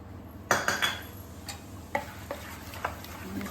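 Dhokla batter with chopped green coriander being stirred in a bowl, a few sharp clinking scrapes of a spoon against the container followed by softer scattered taps, close and fairly quiet with no voices.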